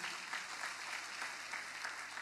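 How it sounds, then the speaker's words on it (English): A church congregation in Lusaka claps together as bishops stand to be acknowledged, a steady dense wash of applause at moderate distance, continuous for the whole stretch with no talk over it. "They'll clap and I'll go quickly."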